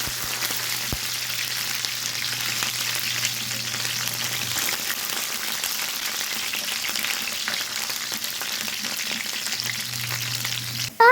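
Pineapple sautéed in a pan: a loud, steady, crackling sizzle fills the whole stretch, with a faint low hum in places and no voices.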